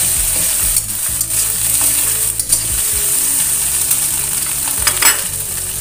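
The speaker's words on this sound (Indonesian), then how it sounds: "Tumis-tumis." Vegetables sizzle and crackle steadily in a hot pan, with occasional scraping stirs, close and continuous.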